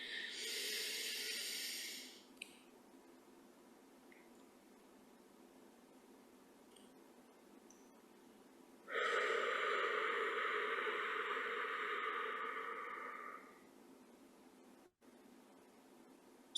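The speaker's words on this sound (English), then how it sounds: "So, okay. the box breathing is like this." Slow box breathing, close to the microphone: a long hissing breath lasting about two seconds, a quiet hold of several seconds, then a second long, strong, airy breath lasting about four seconds before silence returns.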